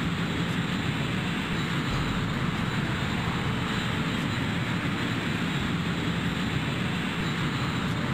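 An F-22 jet engine from the flight game Strike Commander gives a continuous loud roaring drone with a faint repeating high tick, steady and unbroken throughout.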